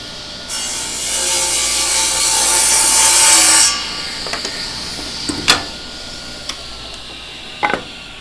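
A table saw rips through wood being cut for desk name plates in one sustained, loud pass of roughly three seconds, then winds down into a few scattered knocks and clicks nearby.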